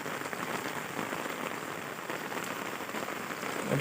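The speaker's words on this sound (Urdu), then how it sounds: "اور پھر یہ بارش، اللہ پاک اس کو رحمت کی بارش رکھے۔" Steady rain falls on a village, a dense even patter on surfaces with no speech and no pauses.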